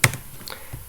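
A few quick keystrokes on a computer keyboard, close and crisp, in a brief burst with a sharp first tap and lighter taps after.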